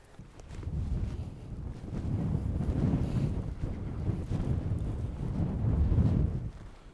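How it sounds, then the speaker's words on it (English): Steady wind blowing at an evening wild camp, a continuous low rushing roar buffeting the microphone with gusts swelling and easing throughout, no voices heard. "Alright, the wind's picking up a little bit."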